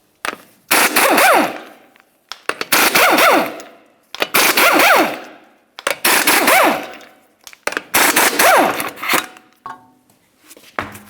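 An impact wrench with a 21mm socket hammers off the lug nuts on a 2003-2011 Mercury Grand Marquis in five loud, close bursts of rapid rattling, each about a second long and separated by short pauses.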